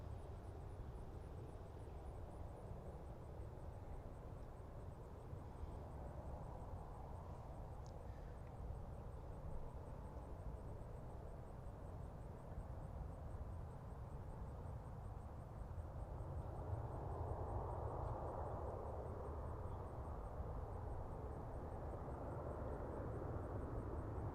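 A Southwest airliner arriving at Baltimore-Washington airport produces a steady, distant low rumble of jet noise that swells slightly louder toward the end, with no talking.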